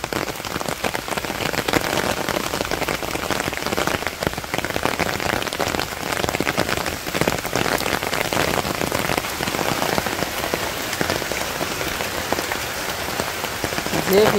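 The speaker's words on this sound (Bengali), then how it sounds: "কি সুন্দর বৃষ্টি বলছে" Steady rain during the Bangladeshi rainy season drums on surfaces in a loud, unbroken hiss with close individual drops spattering throughout.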